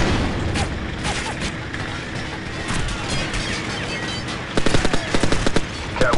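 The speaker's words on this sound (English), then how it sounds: "Flashbang out." Loud flashbang blast and gunfire in the Call of Duty 4: Modern Warfare video game, with a dense continuous din of explosions and shots, then a burst of sharp rapid gunshots near the end, over faint squad voices.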